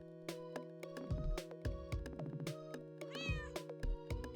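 The cat Shadow in a role-playing video game lets out several short, clear meows in an uneven rhythm, set against a steady electronic background tone.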